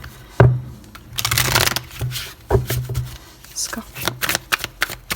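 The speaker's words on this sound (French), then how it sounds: "Allez, on va aller tirer votre carte unique." Tarot cards being shuffled and drawn by hand, with crisp riffling and sliding bursts and a few sharp card snaps, close and fairly loud, while someone speaks briefly over them.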